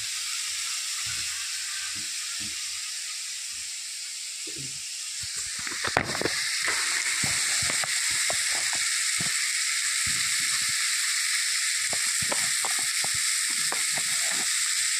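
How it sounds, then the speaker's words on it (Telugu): Vegetables fry in a pan with a steady, bright sizzle that swells and holds after a few seconds, broken by clacking stirs and scrapes of a utensil, close by with no talking. "ఇవన్నీ బాగా ఫ్రై చేసుకోవాలి"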